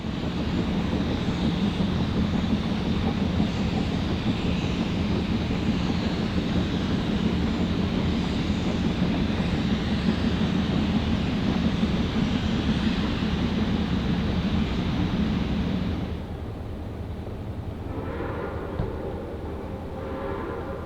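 Great Smoky Mountains Railroad steam locomotive 1702 running past a lake in the Smoky Mountains, a steady loud rumble of engine and rolling cars that cuts off abruptly near the end, leaving quieter background sound.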